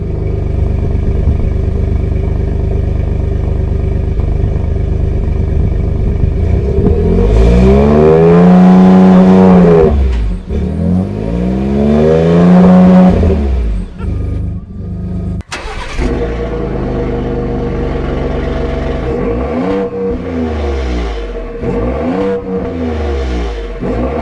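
Ford F-150 trucks, an EcoBoost and a PowerBoost, rev their exhausts up close and loud, with repeated rising and falling engine sweeps, a sharp break, then another round of throttle blips over a steady idle.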